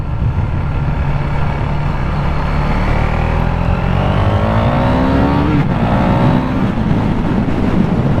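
A KTM Duke 390 motorcycle engine revs up loudly and close, pitch climbing steadily under acceleration before breaking at a gear shift and rising again, with no talking.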